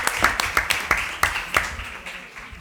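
Applause greets the panelists at a social work conference session as a handful of distinct, evenly spaced claps ring out in a small room, sparse rather than a full ovation, tapering off toward the end.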